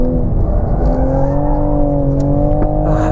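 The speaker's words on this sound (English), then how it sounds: "there's something fun about just doing skids at a track day" A 2020 Toyota Supra sliding sideways at a track day, its engine holding a loud steady drone with a rising pitch, close and continuous with no voices.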